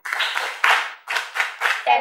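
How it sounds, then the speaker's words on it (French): An audience at an outdoor health-promotion cinema event in the commune of Toffo claps in loud, close, rhythmic bursts, several quick rounds of hands beating together in near unison. "Les amis, applaudissez pour la guérison et le retour de Kossi à l'école"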